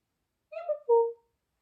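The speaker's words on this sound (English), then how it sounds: "Oh, that's my cat." A pet cat gives one short, quiet meow in two quick parts, close by and alone in an otherwise silent room.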